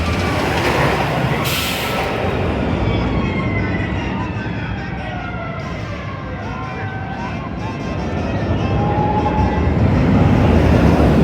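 A roller coaster train on the Accelerator ride at Knott's Berry Farm roars and rumbles past continuously, loud and close, with a faint squeal riding over the steady rushing noise.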